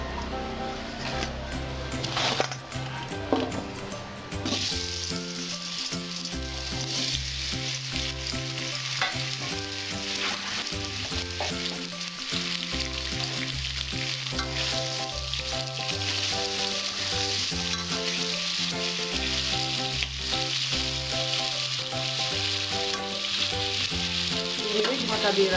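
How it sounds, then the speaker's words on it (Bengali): Potatoes shallow-frying in a pan hiss with a dense, continuous sizzle that stays loud and even throughout, with background music running underneath. "আমি আলুটা হালকা করে একটু ভেজে নেব"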